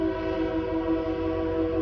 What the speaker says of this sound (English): How about this train pass real quick?